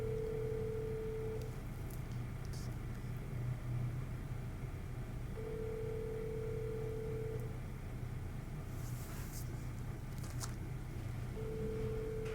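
A phone call rings out on speakerphone, with three long ringback tones spaced evenly apart, playing faintly over a low background rumble.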